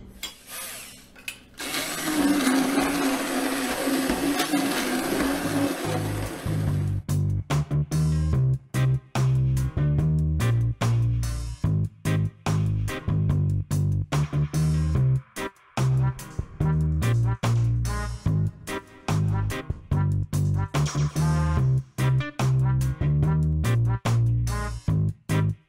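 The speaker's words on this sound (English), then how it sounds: "I like to put the immersion blender into this and make a nice puree." Immersion blender pureeing cooked tomato sauce for salsa, a steady loud motor whir with a pulsing, churning rhythm after a brief initial burst of noisy blending, continuing alone for most of the stretch.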